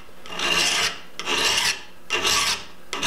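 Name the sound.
filing a cabinet scraper edge clamped in a vise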